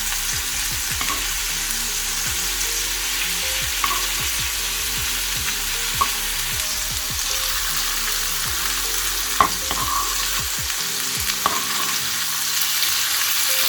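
Hidol hutki, dried fish, frying in a pan with a steady, loud sizzle and crackle throughout, broken by occasional sharper pops and the scrape of stirring.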